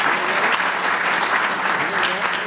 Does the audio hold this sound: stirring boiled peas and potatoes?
no